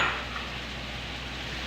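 Two large bell peppers cut into cubes go into a frying pan for chicken jalfrezi, giving a soft, close sizzle with light stirring that fades quickly and stays fairly quiet throughout.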